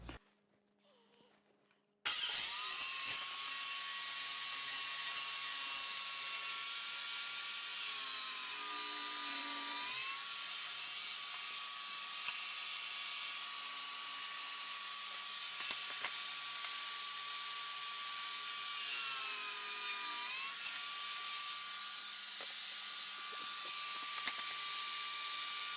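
A saw trims the end off a glued-up wooden cutting board. After a short quiet lead-in, it runs with a continuous, fairly loud whine for over twenty seconds, and the pitch dips briefly twice as it loads into the wood.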